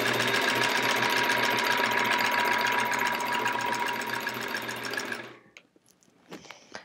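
A sewing machine runs steadily at speed while quilting the border of a Splendid Sampler quilt, a loud, fast mechanical rattle that slows and stops after about five seconds, followed by light handling noises.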